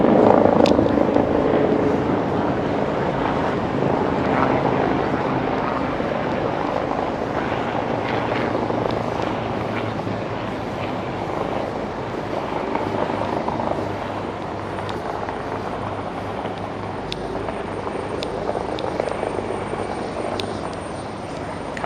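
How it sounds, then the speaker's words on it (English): A helicopter's low, rumbling drone persists throughout at moderate distance over Brooklyn and Manhattan, New York City, steady with slight swells, amid faint outdoor background noise. "There's a helicopter right over there."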